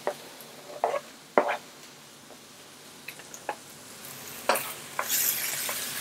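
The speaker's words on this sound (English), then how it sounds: "You see the bacon is cooking nicely, getting that nice color." Bacon frying in a pan, a low steady sizzle broken by scattered clacks and scrapes of stirring, with a louder burst of spatter toward the end, no speech.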